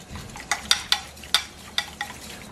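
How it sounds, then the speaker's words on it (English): Hot soup mixed into egg yolk for Greek avgolemono, a spoon or whisk scraping and clinking against a bowl in a few sharp strokes spread irregularly over a short stretch, close and fairly quiet with no talk. "I'm going to take about a cup of soup and put it in with the egg yolk, just like that, and mix that up"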